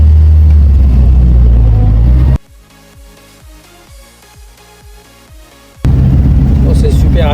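Vintage Hotchkiss car driving, its engine a loud, steady roar with heavy wind and road rumble that cuts abruptly to a quieter stretch of rhythmic mechanical ticking, then returns at full volume.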